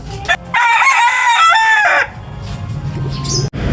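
A white kelso gamecock rooster crows loudly and close, one long drawn-out cock-a-doodle-doo lasting over a second, followed by quieter background noise and a sharp knock.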